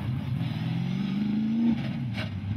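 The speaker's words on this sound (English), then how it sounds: "It's a 68 Camaro with a 406 small block." A 1968 Chevrolet Camaro with a 406 small block engine revs steadily and close by, its low rumble climbing in pitch for about a second and a half before dropping back to a lower idle-like drone.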